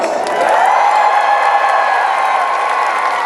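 A large audience at a live jousting show at the PNE fair cheers, whoops and claps in a dense, sustained roar that fills the space without a break.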